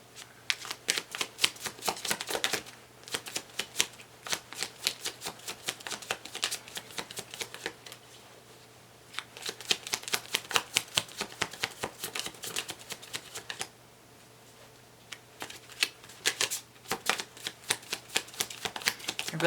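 A deck of cards shuffled repeatedly, crisp fluttering riffles in several bursts with short pauses between, close and clear with no talking.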